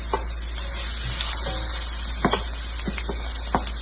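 Carrots frying in a pan, a constant sizzle with scattered spattering pops and light stirring taps, no voices.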